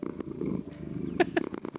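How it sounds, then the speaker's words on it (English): A cat in the Minecraft video game purrs softly in a short, low rumble, with a couple of small mewing chirps near the end. "Hello, little kitty. Here's a fish for you."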